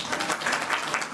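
A seated audience bursts into steady, dense applause for a guest at a Jal Chetna Welfare Foundation gathering, the clapping filling the whole moment at an even level with a brief louder thump at the very end.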